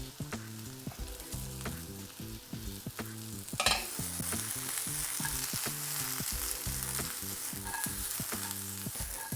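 Carrot pieces stir-fried in a hot pan, a constant close sizzle broken by frequent stirring scrapes and tosses, with a brief louder burst partway through.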